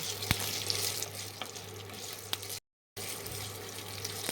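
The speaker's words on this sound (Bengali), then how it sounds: "এবার যে ঢ্যাঁড়সগুলো কেটে রেখেছিলাম সেগুলো দিয়ে দিচ্ছি। ঢ্যাঁড়সগুলো সামান্য একটু ভেজে নেব।" Cut okra frying in hot oil seasoned with asafoetida, a steady soft sizzle with a few sharp pops and light stirring, close by, briefly cut to silence partway.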